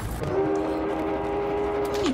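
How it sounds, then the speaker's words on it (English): Long steady horn blast from a passing train in Battlefield 1, holding one pitch for nearly two seconds before dropping off, loud over a rumbling battlefield background with no voices. "Choo-choo trains."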